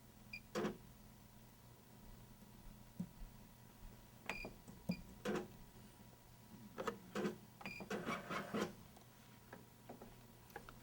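A voting machine runs through recalibration, giving faint mechanical ticks and clicks with short whirring bursts over a steady low hum. The bursts come irregularly and get busier toward the end.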